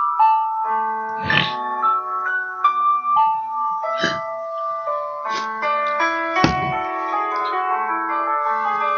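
Musical piece from Star Trek's 'The Inner Light', a gentle tinkling melody of bright, bell-like sustained notes with a few soft percussive taps, played clearly and alone.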